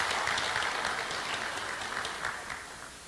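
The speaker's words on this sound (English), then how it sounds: "Congratulations and a big round of applause for all of them." Round of applause for newly elected officials at a live news event, a steady dense clapping from a crowd in a room, fading slightly toward the end.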